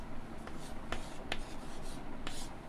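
Writing on a board, with soft scratching strokes and a few sharper taps at irregular intervals, quiet and close with no voice over it.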